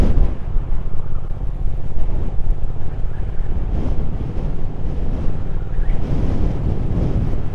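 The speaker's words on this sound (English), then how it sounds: "Battered by the wind again." Strong wind buffeting the microphone while riding along the Wild Atlantic Way, a loud continuous low roar with gusty rumbling surges throughout.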